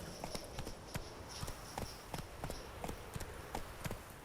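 Hooves of a galloping horse in The Witcher 3, a quick, even clip-clop rhythm on ground, close and steady under a faint ambient bed.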